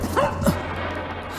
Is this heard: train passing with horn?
no